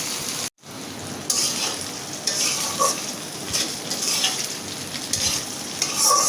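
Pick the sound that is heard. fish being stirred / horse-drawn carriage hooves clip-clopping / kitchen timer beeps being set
fish being stirred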